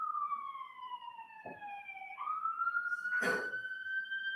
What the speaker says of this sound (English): wait for the ambulance and then speak up